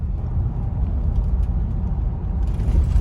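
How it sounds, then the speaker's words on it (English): A Bentley on new Avon tyres cruising at 50 kph along smooth tarmac, heard from inside as a steady, even low rumble of tyre and road noise with no speech. "Doing 50 kph along this better tarmacked road, the meter is sitting just below 60 decibels"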